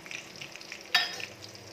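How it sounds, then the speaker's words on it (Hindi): Finely chopped onions frying in a pan until light brown for Kashmiri turnip and mutton curry, a steady soft sizzle with one sharper burst of spatter near the middle, heard alone. "और इसमें हमने डाला है एक अनियन जिनको हमने फाइनली चॉप किया है और इसको हम लाइट ब्राउन होने तक फ्राई करेंगे"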